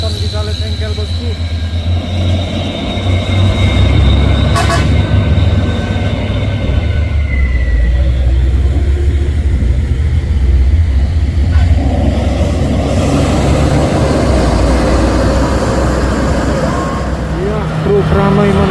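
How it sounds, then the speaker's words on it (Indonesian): Trucks labour uphill in busy afternoon traffic on the Bukit Kodok climb. Heavy diesel engines give a loud, continuous, close rumble that swells and eases as vehicles grind past. "Truk ramai menanjak bosku pada pukul jam 4 sore."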